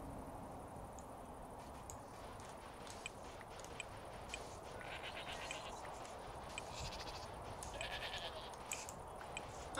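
Sheep bleating in the Minecraft modpack Dawn Craft, a few faint, scattered calls over a steady game background with no talk.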